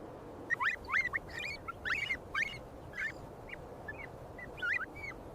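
A killdeer calls repeatedly outdoors, sharp rising-and-falling cries in uneven clusters over a steady background hiss, fairly close and clear.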